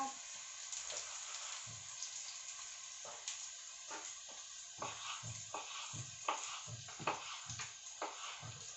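Chicken pieces sizzling as they brown in a pan for chicken curry, a soft, steady frying crackle with scattered pops and occasional clinks of stirring.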